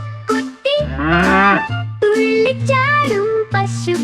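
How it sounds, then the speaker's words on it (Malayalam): Calf moos in a Malayalam children's song, several drawn-out tonal lows alternating with short higher calls in a sung, musical rhythm, clear and upfront. "പാൽ കുടിക്കും പശുക്കുട്ടി, ഇമ്പയിമ്പേ പശുക്കുട്ടി."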